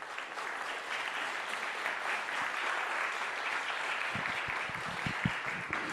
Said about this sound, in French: Merci d'applaudir et d'accueillir Gaëtan de l'Hermite